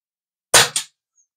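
A single shot from a budget regulated PCP air rifle firing 18 grain pellets, a sharp close crack followed immediately by a second smaller snap, then silence.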